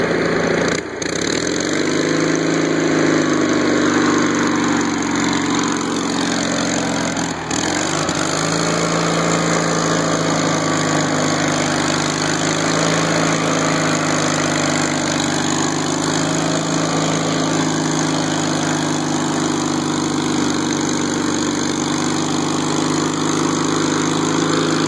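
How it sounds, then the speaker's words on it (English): A Gravely Promaster 300 zero-turn commercial mower with a throttle issue runs steadily, its engine droning loud and close at a constant idle with a brief dip near the start. "Does have a throttle issue, but yeah, still is a good mower."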